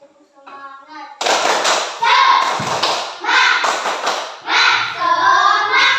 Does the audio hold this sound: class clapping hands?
yes